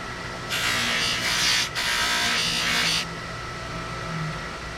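A buffing wheel polishes stainless steel trim with compound, giving off a buzzing whir that rises, drops for a moment, and then cuts off. A low motor hum continues underneath.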